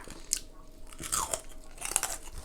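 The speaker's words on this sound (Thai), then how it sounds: "แคบหมูเขาก็กรอบมาก" Crispy pork rinds are crunched while eating, with close, crisp bites and chewing crunches coming in several irregular bursts.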